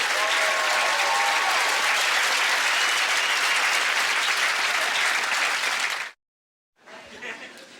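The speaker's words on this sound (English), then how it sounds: "Big round of applause for a volunteer." A comedy club audience breaks into loud, dense applause for a volunteer, a sustained roar of clapping that cuts off abruptly, leaving a brief silence before quieter clapping resumes.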